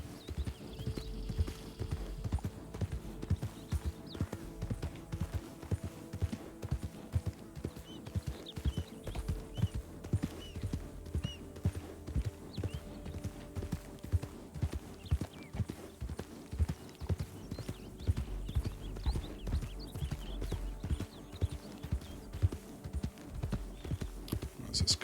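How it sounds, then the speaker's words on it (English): Horse hooves clip-clop steadily in Red Dead Redemption 2, a continuous rhythmic trot of a ridden horse on a trail, moderately near and sustained throughout, with faint game ambience and occasional voice underneath. "I hear another horse."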